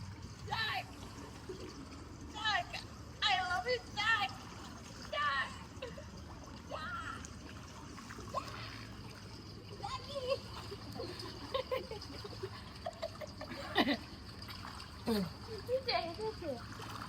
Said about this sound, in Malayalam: കുറച്ച് നേരം സ്വിമ്മിംഗ് പൂളിൽ കിടന്ന് ജാക്കിയും റോസും കളിച്ചു